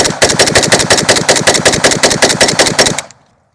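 A Draco Tactical pistol fires a rapid, unbroken string of around twenty loud, evenly spaced shots at close range, ending abruptly with a short echo fading into silence.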